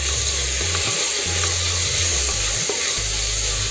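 Tomatoes with green chilli and curry leaves frying in a pan for a chicken roast, a loud continuous close sizzle with a low rumbling hum beneath and occasional stirring scrapes, no voices.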